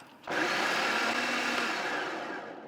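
A food processor chopping glass noodles whirs into action with a sudden loud motor roar, running steadily and chopping continuously until the clip ends.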